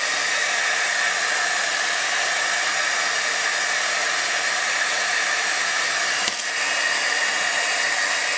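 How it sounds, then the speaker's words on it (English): Heat gun blowing hot air onto crinkle ribbon in a papercraft setting, a steady loud hissing whoosh of airflow running continuously, with one brief dip near the end. "when you're using the heat gun, be careful not to keep it in one place, so otherwise you risk the chance of scorching it"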